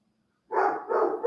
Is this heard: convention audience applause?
no